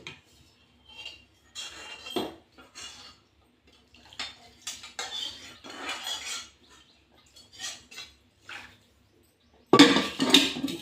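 Fish pieces being stirred with curry masala in a pot for Andhra-style fish pulusu, making intermittent scraping and clinking of a utensil against metal, in short bursts with quiet gaps and a louder clatter at the end.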